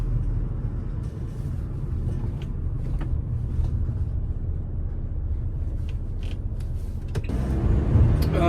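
A Renault Kangoo van rolls along the road with a steady, low interior rumble and faint ticks and rattles, growing slightly louder near the end.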